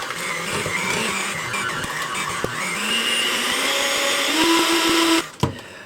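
An electric hand mixer beats cookie dough in a bowl, a loud close whirring drone whose pitch climbs and wavers as the beaters work, then cuts off with a couple of clunks near the end.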